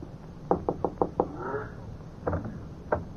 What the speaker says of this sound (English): He knocks on a door.